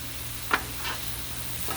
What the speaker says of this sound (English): Does it look like a cauliflower rice stir fry something or other?